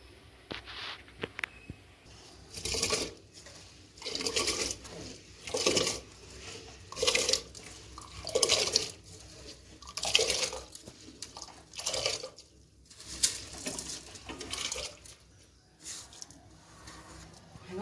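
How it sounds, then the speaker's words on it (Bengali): Rice and its starchy water boil in a pot on the stove, bubbling in soft surges that rise and fall every second or two, faint and close, with no talking. "আর এখানে আমি বসিয়ে দিয়েছি দেখো ভাত আর ভাতের জল দেখো ফোটা চালু হয়ে গেছে"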